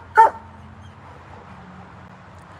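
A dog gives a single short, sharp bark, close and fairly loud, followed by quiet room tone with no further sounds.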